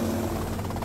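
A helicopter in the video game Grand Theft Auto Vice City gives a brief, steady droning rotor hum, moderately loud and continuous with no voices.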